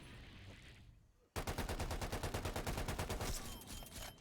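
Sustained automatic fire from a C58 assault rifle in Black Ops Cold War, loud and close, a rapid even burst of shots lasting about two seconds after a quiet start, then trailing off into game ambience.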